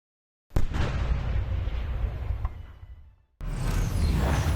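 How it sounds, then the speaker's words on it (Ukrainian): A sudden loud blast bursts in and roars for about three seconds before cutting off, followed by another sustained rumbling noise. "Увага! Вибух!"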